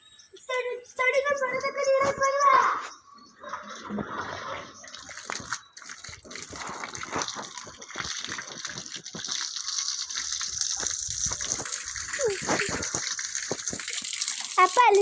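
Water gushes and splashes steadily at a farm, close and continuous, with a voice speaking briefly early on before the rushing flow takes over.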